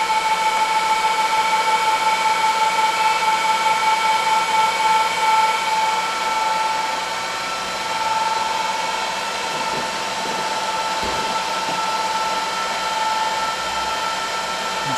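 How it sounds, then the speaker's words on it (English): A 1U rackmount NetFPGA server's fans spin up at power on, a loud steady whir with a sustained tone that continues throughout, easing slightly partway through, with faint clicks near the end. "You hear the fan spin up."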